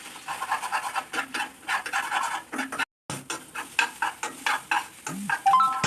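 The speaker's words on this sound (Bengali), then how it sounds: "ডিমটা এখন দিয়ে দিলাম। তো ডিমটাকে আমি ভুজিয়ার মতো করে নেবো।" Egg being stirred and scrambled in a hot pan into Bengali-style bhujia: repeated scraping stir strokes over a steady sizzle, with a brief gap midway and a few clinks of utensil on pan near the end.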